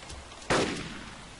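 A single sharp gunshot in the survival game DayZ, loud and sudden, cracking out once before a short fading tail over quiet background ambience.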